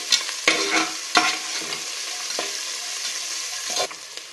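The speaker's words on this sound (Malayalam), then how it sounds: "വെളുത്തുള്ളിയും ഇഞ്ചിയും മൂത്ത് മണം വരുമ്പോൾ സവാള ഇട്ട് 1 മിനിറ്റ് നന്നായിട്ട് വഴറ്റണം" Onions, crushed garlic, ginger and green chillies sizzle steadily in hot oil in a pan for a vegetable biryani. A spoon stirs and scrapes through them with occasional louder clanks.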